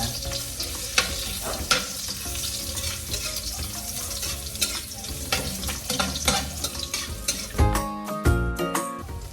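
Ginger frying in an overheated kawali for sinigang sa miso gives a busy crackling sizzle with frequent pops and utensil knocks, turning louder and more clattering toward the end, with no voices.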